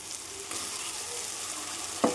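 A paste of onion, ginger, garlic, tomato and ground pointed gourd fries steadily in a pan with a continuous close sizzle, and a brief utensil clatter comes near the end; nobody speaks.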